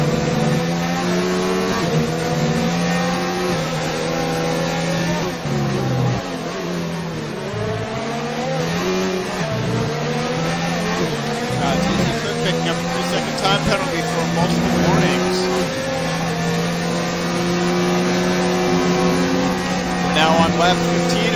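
Formula 1 cars in F1 2019 on the British Grand Prix circuit, engines droning and shifting pitch steadily for over twenty seconds as they race toward the back straight, with commentators talking over the engine noise throughout.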